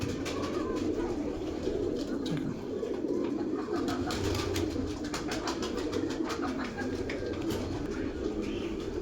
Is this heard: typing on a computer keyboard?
no